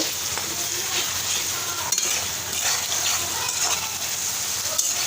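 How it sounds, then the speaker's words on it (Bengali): Spices sizzle loudly in a wok while a utensil scrapes and stirs through them, with a few sharp clinks against the metal. "এই যে আমি এখন এটাকে ভালো করে একটু নেড়ে নিব"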